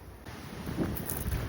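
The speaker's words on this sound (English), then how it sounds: "it's very windy out here" Strong wind buffets the microphone at the confluence of three rivers in Montana, a low rumbling gusty roar that swells after the first moment and stays loud.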